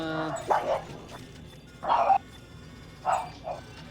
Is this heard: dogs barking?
yes